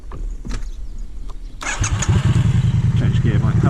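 A Triumph Street Twin motorcycle on a muddy byway, its engine quiet under a voice at first, then revving up loudly and rumbling steadily close by as it pulls away in a new gear.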